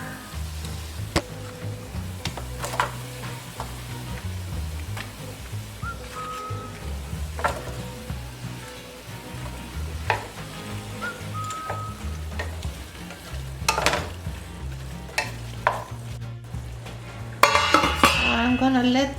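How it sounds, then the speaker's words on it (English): Olives bubbling and sizzling in a pan as a leek and olive stew cooks, a steady crackling fry with clinks of utensils against cookware and occasional stirring, close and continuous throughout. "The olives are boiling"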